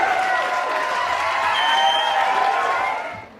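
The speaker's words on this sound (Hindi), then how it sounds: "जोरदार तालियों से" A crowd at a wedding sangeet in Mira Road gives a burst of applause. It is a steady, dense wash of clapping over lingering music tones, and it fades out quickly at the end.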